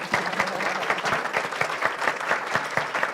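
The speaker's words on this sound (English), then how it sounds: "Can you two please stand up for one more round of applause for the two of you?" Steady, dense audience applause with cheering undertones continues throughout, a full crowd clapping evenly for about three seconds.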